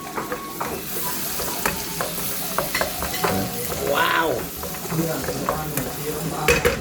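Onions fry in a pan at a New Year celebration of truckers in Germany, giving a steady close sizzle broken by scraping stirs and light utensil clatter, with a brief louder bubbling burst midway.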